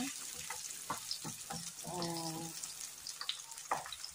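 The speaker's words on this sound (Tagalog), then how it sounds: "Gisa-gisa muna natin." Garlic and ginger sauté in a pan for squid adobo, a steady close sizzle with scattered stirring clinks and scrapes, brief tonal clatter midway, no talking.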